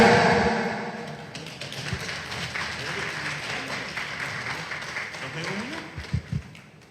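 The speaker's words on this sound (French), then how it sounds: "Sous vos applaudissements, bien sûr, monsieur le directeur général de Au Garage." An audience at the opening of a car cosmetic renovation centre in Senegal applauds the director general of Au Garage, clapping that swells at first and then tapers, with voices and a few thumps near the end.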